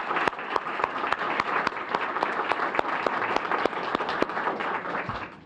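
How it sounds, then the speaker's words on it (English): A large crowd applauds award recipients at a police recognition ceremony, dense clapping sustained throughout with a few sharper claps standing out, fading slightly at the end. "please join me in another round of applause for our award recipients"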